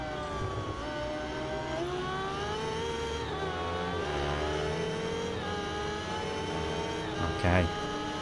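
MV Agusta F4 motorcycle in the Ride 2 racing game, its engine whining steadily with rising and falling revs through gear changes, loud and continuous, with someone talking over it.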